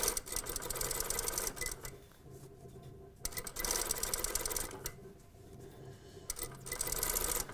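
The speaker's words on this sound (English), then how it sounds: "it's called an understitch" Sewing machine understitching a hem facing, running in two long bursts of rapid stitching with short pauses between them, close and clear with no talking.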